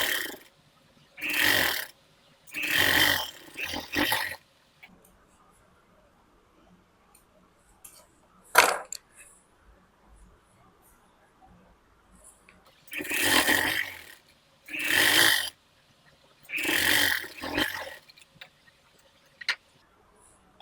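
A sewing machine runs fitting seams on a princess-cut blouse in bursts, with several close stitching runs of one or two seconds each separated by quiet pauses and a single sharp click between them.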